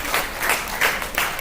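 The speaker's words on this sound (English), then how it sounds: "He deserves a huge round of applause." Audience applause at a formal gathering, a steady wash of many hands clapping at moderate volume with no voices over it.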